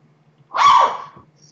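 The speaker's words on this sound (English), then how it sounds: "My mom has some dogs." A single small dog gives one sharp, mid-pitched bark or yelp indoors, moderately close, set against faint low background hum and otherwise quiet.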